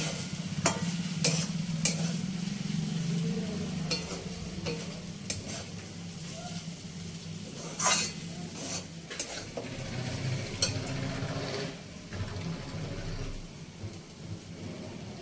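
Semolina (suji) with a splash of water is stirred in a hot pan for spicy suji, making repeated scraping strokes of the spoon over a soft sizzle, close and fairly quiet, without talk.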